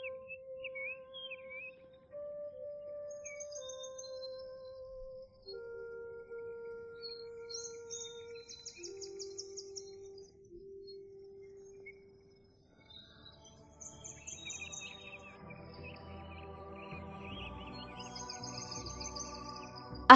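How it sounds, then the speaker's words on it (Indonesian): Small birds chirp and sing alone in a sequence of whistled tweets and trills, sparse and clear at first, then building into a denser, busier chorus of overlapping calls with a faint insect-like buzz beneath. "Ada seekor burung."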